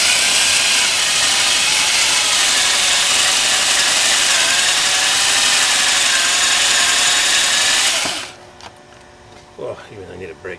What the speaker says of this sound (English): Keep on drilling.